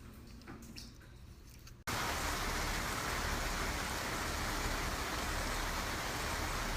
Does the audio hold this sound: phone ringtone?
no